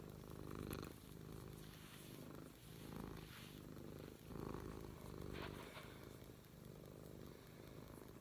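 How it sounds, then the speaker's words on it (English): A cat purring up close, a soft rhythmic rumbling purr that swells with each breath in and out, faint and steady throughout. "Purring. You have quite the motor today"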